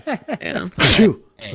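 A single loud, close sneeze bursts out between bits of casual conversation, with people talking before and after it.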